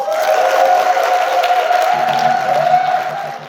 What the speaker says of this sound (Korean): 박수 힘차게 치겠습니다